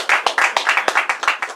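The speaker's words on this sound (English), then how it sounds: "Give yourself a round of applause." A small audience at a book signing claps in quick, uneven bursts, close and fairly loud, a short round of hand claps with individual slaps clearly separated.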